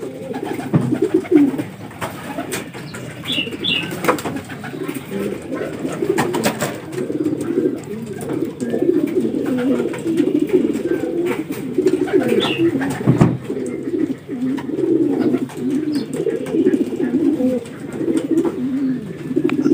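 Racing pigeons in derby training coo continuously in a dense, close chorus of low, rolling calls, with occasional wing flutters and faint chirps.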